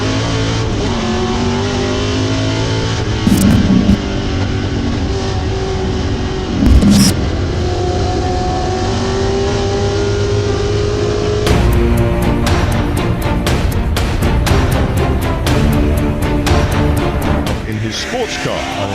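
Race cars, including a Boss Ford Mustang, launch from a standing start at the Goodwood Members Meeting Gerry Marshall Trophy, engines roaring loudly and continuously with revving bursts, while a commentator talks over the din.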